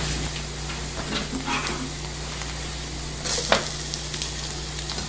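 Onions sweating in a pan for chicken cordon bleu give a steady, soft frying sizzle with a low hum underneath and brief louder crackles near the end.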